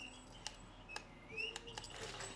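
A dog's chirping toy gives short, high chirps at irregular intervals, fairly faint against a quiet indoor background.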